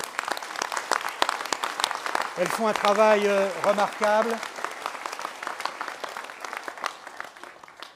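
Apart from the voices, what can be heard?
audience applause for the associations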